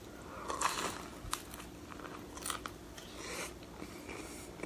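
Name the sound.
chewing wild mussels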